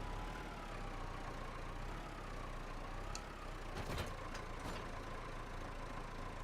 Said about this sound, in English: I do like the sound of this Massey Ferguson.